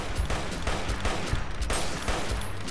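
Rapid bursts of gunfire pound at a legendary blowfly in Fallout: New Vegas, loud, close shots repeating steadily with no voices.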